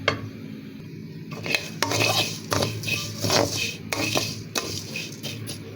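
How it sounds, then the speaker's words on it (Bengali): A spoon stirs salted, pan-fried flattened rice made from local paddy with sugar in a pan on a medium flame, giving steady scraping and clinking against the metal with a faint sizzle, close and alone. "তো এখানে আমি চিড়াটাকে চিনি দিয়ে আসিয়ে নিচ্ছি।"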